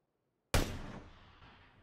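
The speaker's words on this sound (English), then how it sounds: "Again, our shot hit the wall" An SKS sniper rifle fires in PUBG: a single sharp, loud shot breaks the silence and trails off into a long, fading echo.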